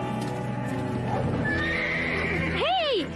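A horse in a dubbed animated farm cartoon gives a loud, rising and falling whinny near the end, after a stretch of voices and background music.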